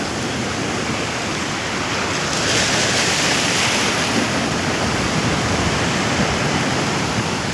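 Sea waves wash steadily onto Kundapur beach beside a road, a broad, continuous roar of surf with wind noise buffeting the microphone.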